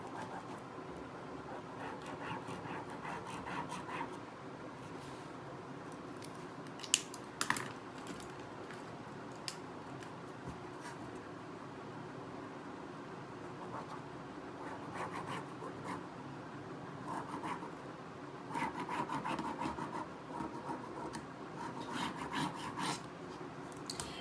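A marker or pencil scratches a hem line onto cut fabric for a cushion, soft rasping strokes in short bursts close by, quiet and with no talk.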